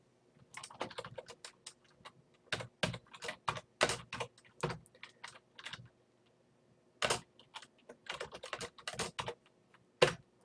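Close-up typing on a computer keyboard comes in quick bursts of keystrokes separated by short pauses, with no voices.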